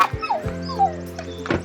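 A dog whimpers and yips in short, high, whining bursts, a few close cries breaking over a steady low hum, with no talking.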